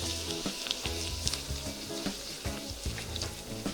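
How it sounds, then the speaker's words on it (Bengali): Chopped garlic fries in half a cup of hot oil in a cooking pot for homemade chilli oil, a steady crackling sizzle with occasional soft clinks of stirring, close and moderately loud throughout. "রসুনগুলো পুরোপুরি গোল্ডেন ব্রাউন কালার হয়ে আসা পর্যন্ত ভেজে নেবো"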